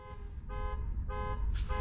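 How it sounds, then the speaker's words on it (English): A car's warning alert beeps inside the vehicle, sounding about three clear tonal pulses over a low cabin hum. "my wife's vehicle beeping at me"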